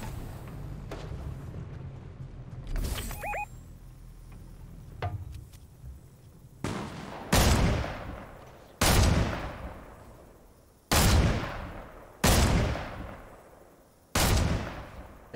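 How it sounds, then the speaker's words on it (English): Gunfire in a Fortnite match rolls through a noisy stretch, with a few scattered cracks early on, then six heavy, booming shots at a steady pace of roughly one every one and a half seconds, each leaving a long decaying tail. "Yep, I hear gunfire."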